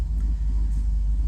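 A Chevy SS engine fitted with long tube headers, heard from inside the car, gives a deep, steady low rumble that stays loud and even throughout, with no talking.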